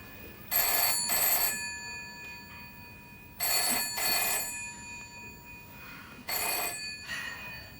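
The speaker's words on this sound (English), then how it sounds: "George, it's Sylvie on the phone." An old-fashioned telephone bell rings at a farm in a 1992 sitcom, three double bursts of bright trilling separated by pauses, loud and clear over a quiet room with no talk.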